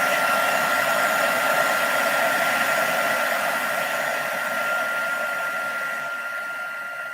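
A hair dryer blows steadily on artwork of fresh cut flowers, giving a loud, continuous whirring drone that eases slightly toward the end.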